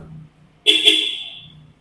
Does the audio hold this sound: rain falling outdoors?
no